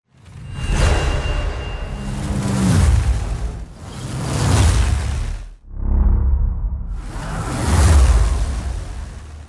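Airy whoosh transition effects from a hybrid sound-design library, four loud swelling sweeps in a row, each rising and falling, with deep rumbling low end and no voices.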